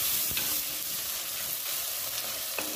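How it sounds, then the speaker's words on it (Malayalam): Chopped tomatoes sauté with onion, ginger and garlic in a pan for a Kerala-style fish curry, giving a bright, steady sizzle broken by a couple of sharp stirring knocks, near and unbroken, without speech. "നമുക്കിനി തക്കാളി ഒന്ന് സോഫ്റ്റ് ആകുന്നവരെ വഴറ്റി കൊടുക്കാം"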